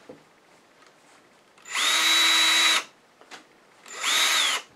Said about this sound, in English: What you don't want to do is try to drill a hole for it.